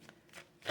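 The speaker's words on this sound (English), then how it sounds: "This is just the shuffling phase." Tarot cards are shuffled by hand in a few quick, soft riffling bursts, close and quiet, ending in a brighter flurry.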